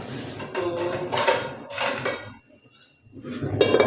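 A pan of ghee set on a kitchen stove to heat for frying potato fries, heard as a few close metallic clatters and knocks of cookware with brief pauses and no talk.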